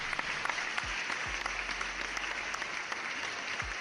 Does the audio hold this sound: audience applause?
yes